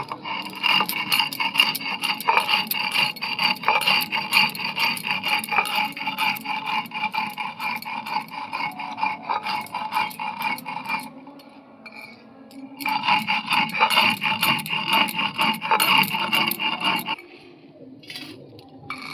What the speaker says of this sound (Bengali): সামান্য একটু চিনি নিয়ে নেব চিনিটা আমি গুঁড়ো করে নিচ্ছি